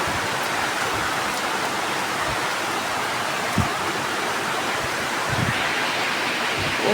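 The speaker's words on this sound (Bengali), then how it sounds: "এত বৃষ্টি নামছে সাদা।" Heavy rain pouring down outdoors, a dense, even roar of falling water close by with occasional heavier splashes and no voices.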